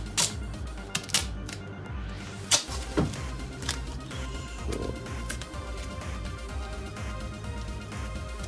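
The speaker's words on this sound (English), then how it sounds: "Time for the duct tape." Duct tape pulled off the roll and pressed onto a dried sink drain around a plastic cap, heard as several sharp ripping tears near the start and then steady close handling with crinkly tape noise.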